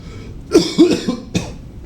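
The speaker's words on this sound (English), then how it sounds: "I still have a bit of that cough" A person coughs a few times close up, two quick throaty coughs followed by a third after a short pause.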